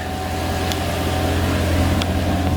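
A Mercedes C55 AMG engine idles steadily and close by, a low, even rumble with a couple of faint clicks over it and no talk.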